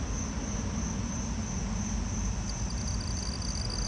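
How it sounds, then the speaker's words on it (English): A southeastern field cricket chirps steadily at night, a continuous high trill carrying over a low constant background of other insects and frogs, with no voices. "There's a southeastern field cricket in here too, I hear it."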